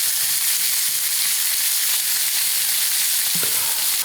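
Stuffed pork chops fry in a pan with a steady bright sizzle, close and continuous, and a brief clunk near the end.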